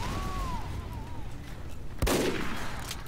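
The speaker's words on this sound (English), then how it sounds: "I'm getting a nice body shot there." A single loud sniper rifle crack in Team Fortress 2 bursts out sharply partway through, close and abrupt, after a quiet stretch of game ambience with a faint whistling tone.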